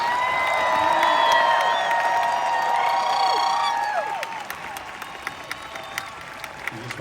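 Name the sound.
audience applause at the Hollywood Bowl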